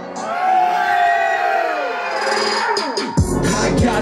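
Concert crowd at a live show screaming, whooping and cheering loudly, with layered shouts and a sudden burst of heavy low-end noise near the end.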